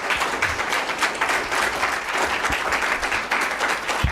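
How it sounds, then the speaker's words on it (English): A conference audience at a panel on data, policing and privacy applauds the moderator with steady, dense clapping that fills the whole stretch at moderate loudness. "Let's give a round of applause for Celine."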